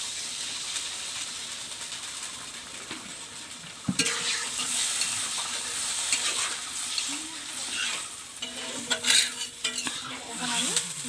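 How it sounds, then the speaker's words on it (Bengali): Water hits a pan of frying masala with brinjal and potato for a village-style rohu fish curry, bursting into a sudden loud sizzle and hiss, with utensil clinks and stirring scrapes around it. "আমি এখন জল দেব"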